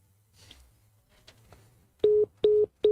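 A dropped phone call to a radio studio ends in a busy signal, three loud evenly spaced telephone tones pulsing after some faint background murmur.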